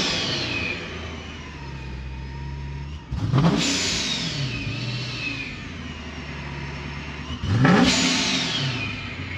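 Supercharged Dodge Challenger Scat Pack with a Vortech blower accelerates twice, each run a loud, rising engine roar with supercharger whine, starting from a steady idle rumble and then easing off.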